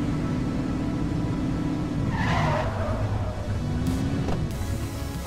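Car in a police video game drives and skids, with a sustained engine drone and a long sweeping tire squeal in the middle, then brief scraping bursts near the end, loud and continuous throughout.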